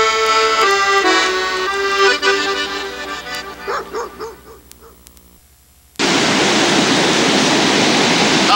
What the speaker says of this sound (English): standing on the edge of the Great Pacific Ocean